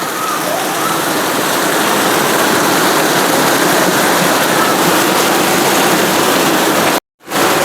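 Heavy morning downpour of rain pouring steadily and loudly, a dense continuous roar of water close by for about seven seconds, then a sudden brief dropout near the end before the rain returns.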